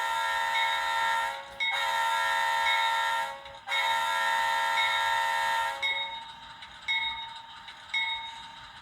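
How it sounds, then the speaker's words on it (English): An HO scale Atlas Gold Norfolk Southern C40-8 model locomotive horn sounds in long, steady harmonic blasts with brief breaks between them, loud and close, with no talking. "when you honk the horn"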